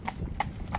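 A Fell pony's hooves clip-clopping, three evenly spaced crisp strikes on a hard surface at a steady walking rhythm.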